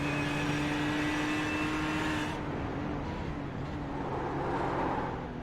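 Onboard engine of a Ford GT race car driven hard around the Montreal circuit in a racing game: a continuous loud, tonal engine drone that shifts in character partway through as the car changes speed, with no speech.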